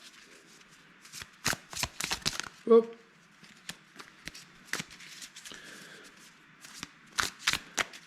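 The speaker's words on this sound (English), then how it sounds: "Thank goodness for my automatic card shuffler." Playing cards riffle and snap in an automatic card shuffler during a tabletop card game, with a rapid burst of quick, close clicks and rustles amid scattered shuffling noises and brief talk.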